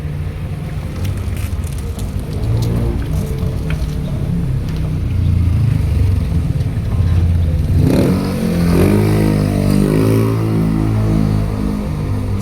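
A motorcycle engine runs close by with a low, steady rumble that swells into revving partway through, loud and continuous with some clatter and no speech.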